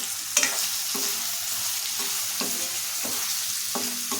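Raw tamarind pieces frying in a pan, with a soft, steady sizzle broken by regular scraping stirs roughly every half second, heard close and fairly quiet.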